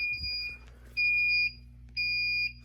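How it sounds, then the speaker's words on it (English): A residential fire alarm system under test sounds three loud, piercing electronic tones, each about half a second long, separated by short gaps, steady and close with a faint hum underneath; no one speaks. "Fire alarm in-house."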